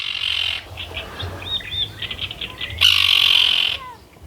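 Gulls call near a pond, a mix of short harsh squawks and chirps with one loud shrill burst, fairly close over background outdoor noise, with no speech.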